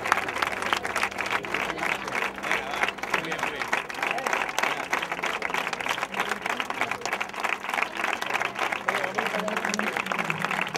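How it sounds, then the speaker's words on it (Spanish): Crowd applause and cheering fill an outdoor gathering marking a completed 100-kilometre charity run, steady and dense for about ten seconds, with voices mixed in throughout. "el aplauso al médico"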